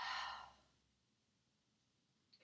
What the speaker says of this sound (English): Deep breath in through the nose. Open your mouth. Exhale.